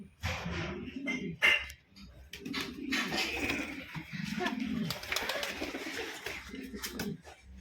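Pigeons cooing close by inside a loft, overlapping soft throaty coos throughout with some fluttery rustling and a faint background voice.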